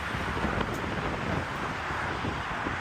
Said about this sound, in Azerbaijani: küləkli bir gündür.